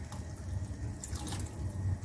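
Spinach cooking water poured into a biryani pot, a short, soft stream of liquid with faint splashing and dripping heard close up.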